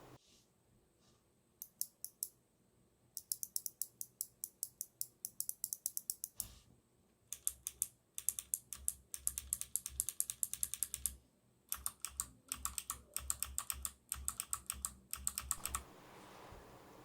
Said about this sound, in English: the actual typing sound you're going to get will really depend on a specific keyboard